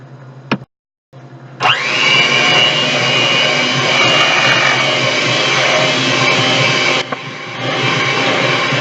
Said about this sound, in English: At this point, you'll go ahead then and mix all your ingredients together